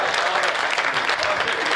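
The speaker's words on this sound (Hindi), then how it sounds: "और एक बार दो चार लोग तालियां बजा दीजिए" Dense, steady crowd clapping from an audience at a Hindi comic poetry gathering, brief and continuous without pauses.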